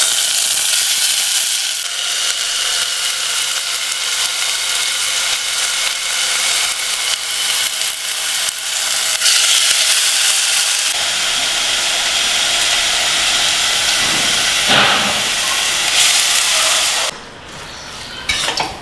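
Grated pumpkin, squeezed of its water, fries loudly in ghee with a dense, continuous sizzle and hiss, with occasional stirring scrapes near the end.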